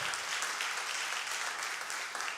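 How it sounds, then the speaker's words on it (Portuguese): A church congregation applauds Jesus from their seats in sustained, even, dense clapping that holds at a moderate level throughout, with no speech over it. "aplauda o Senhor Jesus"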